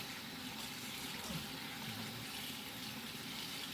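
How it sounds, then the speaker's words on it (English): Tap water runs steadily over a bucketload of cut potatoes being rinsed of starch, a soft continuous hiss and trickle at low level with no talk. "Going to let the water rinse for a little bit on here."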